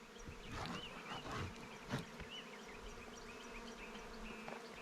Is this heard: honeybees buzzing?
yes